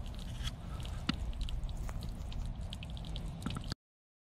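Water from an A/C condensate drain trickles and drips in irregular small splashes, soft and close, fairly quiet, ending abruptly.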